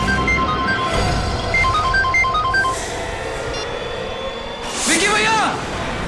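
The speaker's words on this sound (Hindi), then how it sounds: "ये रिंगटोन तो बढ़ती ही जा रही है" A phone ringtone plays a repeating melody of short electronic tones over busy background noise, with a rising chirp near the end.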